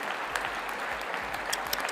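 Applause from the chamber audience at a State of the Union address, a steady broadband clatter of many hands clapping throughout, moderately distant and with no voices over it.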